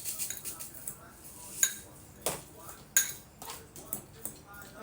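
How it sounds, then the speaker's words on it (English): A fork stirs a breadcrumb topping for mac and cheese in a home kitchen, giving soft irregular scrapes and a few sharp clinks against the dish, fairly quiet and close. "use the fork to stir it"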